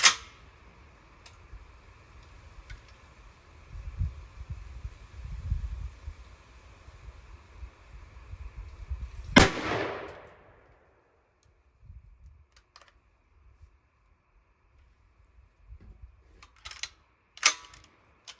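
An M1 Carbine firing a Lehigh Defense 85 grain Controlled Chaos round, a single sharp loud report that rings out briefly, followed by scattered faint clicks and handling noises.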